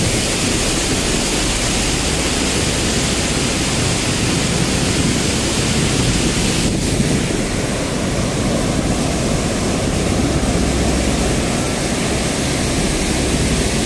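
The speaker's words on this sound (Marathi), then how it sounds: "या 3 गेटमधून पाणी सोडलेलं आहे।" Water rushes out through three open gates of a dam in a loud, steady roar that holds unbroken from start to end, with no voices.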